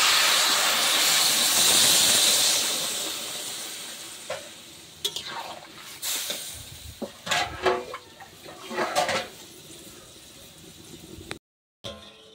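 Water poured into a pan of cooking koi fish sets off a loud, steamy sizzling hiss that slowly fades, followed by scattered stirring scrapes and clatters before a brief silence.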